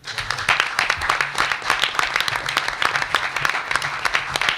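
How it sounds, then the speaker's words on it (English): A round of applause from a presentation audience: dense, crisp hand claps at a fairly close distance, steady throughout with slight pulsing, no talking over it. "I think you deserve a round of applause."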